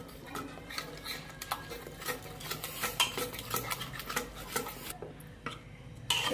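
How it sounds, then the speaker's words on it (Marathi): A spoon stirs gram flour into a thin taro leaf curry in a pot, giving close, repeated scraping and clinking strokes in an uneven rhythm, with a short pause near the end. "2 चमचे आपण डाळीचं पीठ घालूया आणि ते एकसारखं करून घेऊया"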